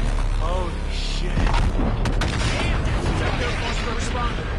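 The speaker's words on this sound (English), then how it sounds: "Spectre cannon is online" A heavy cannon fires in a space combat video game, deep booming blasts and rumbling over a dense bed of explosions and mechanical noise, with game chatter mixed in.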